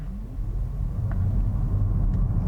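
A 2021 Volvo S90 Recharge T8 hybrid sedan accelerates on electric power alone with the pedal floored, giving a steady low rumble of road and tyre noise with no engine note.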